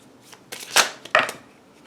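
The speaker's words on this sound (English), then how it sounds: "I'm going to give that a shuffle" Two quick riffles of a deck of oracle cards being shuffled, close and crisp, with soft handling sounds around them.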